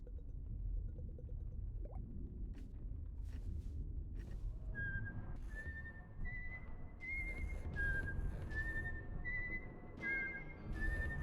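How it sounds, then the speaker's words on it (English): Whistled melody in the video game Wandersong: a run of clear, rising and stepping whistle tones over a steady low game rumble, fairly quiet throughout. "Whistling?"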